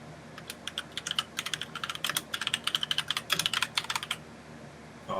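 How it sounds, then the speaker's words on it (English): Rapid clicking keystrokes on a computer keyboard come in irregular bursts, close and fairly loud over a quiet room hum, with no talking. "Oh, what is he typing?"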